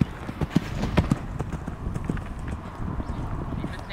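Hooves of a ridden horse clip-clopping steadily around an arena, an irregular patter of close, moderately loud thuds over a noisy outdoor background.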